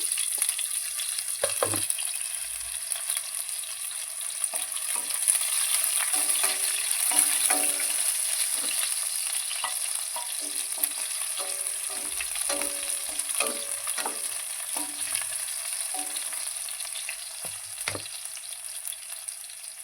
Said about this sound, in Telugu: ఇలా పొడవుగా కట్ చేసుకున్న ఉల్లిపాయలు వేస్తున్నాను